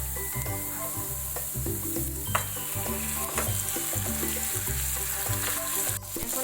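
Marinated chicken pieces hit hot oil in a pan with onions for a spicy chicken jhal, sizzling loudly and continuously with light stirring clatter and no voices.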